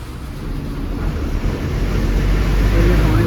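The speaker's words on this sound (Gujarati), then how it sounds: "એટલું ફૂલ વરસાદ ચાલુ છે, એકદમ ફૂલ વરસાદ" Heavy rain pours down during a GSRTC BS-6 sleeper bus journey, a dense, continuous wash of noise that swells louder toward the end, with no talk over it.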